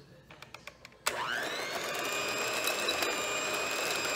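After a few sharp clicks, a whisk starts up on an aquafaba egg-foam mixture for vegan chocolate mousse, then holds a steady, loud mechanical whir with a high whine for the rest of the clip.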